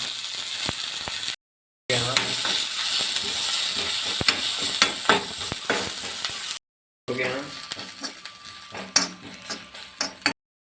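Crushed ginger, onion, shallots and garlic fry in coconut oil, a close, steady sizzle with stirring scrapes and clinks of a utensil, broken by a couple of brief silent cuts.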